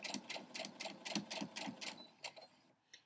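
A sewing machine stitches a quilt block seam in a fast, even run of mechanical clacks that slows and stops near the end, faint and close with no talk.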